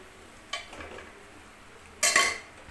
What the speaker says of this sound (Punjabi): ਇਹਨੂੰ ਹਿਲਾਵਾਂਗੇ ਆਪਾਂ ਓਕੇ ਇਸ ਤਰੀਕੇ ਨਾਲ ਹਿਲਾਵਾਂਗੇ